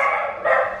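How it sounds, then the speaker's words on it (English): Dogs bark excitedly indoors at home, a close, loud, continuous tonal yelping burst with no clear pauses over less than a second. "The dogs are losing their mind"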